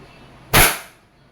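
A Wingun 708 airsoft revolver fires a steel BB in one sharp, loud crack that decays over about half a second, with quiet before and after.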